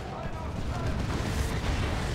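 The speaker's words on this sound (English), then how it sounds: "Another creeping Basilisk Barrage getting that autocannon off the map." Artillery barrage from a Basilisk in the Dawn of War 2 strategy game, a dense, continuous rumble of overlapping booms and blasts that stays loud and steady throughout.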